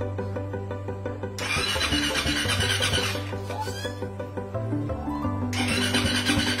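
A Suzuki Raider 150 Fi motorcycle in a Malaysian-concept build, running without an exhaust pipe, cranks and fires up, with loud rough engine noise and bursts of revving throughout.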